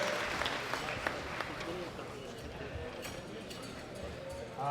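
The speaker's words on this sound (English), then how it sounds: "Give them a round of applause." Applause for women powerlifters leaving the platform at a world classic powerlifting championship fills the hall, with scattered claps and crowd noise under an announcer's voice.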